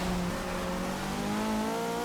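A Forza 6 race car engine drones loud and steady at high revs, its pitch climbing slightly under continuous road and tire noise.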